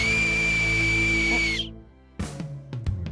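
A loud, piercing acorn whistle held steadily for about a second and a half, then a pause followed by a few sharp knocks and clatters.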